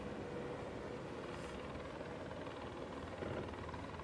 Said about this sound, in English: the helicopters are really, coming kind of low, making a lot of noise